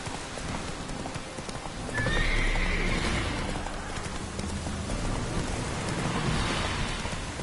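Roach the horse in The Witcher neighs once with a clear rising whinny, then trots on with steady hoofbeats over a rainy outdoor backdrop, close and loud, with no talk.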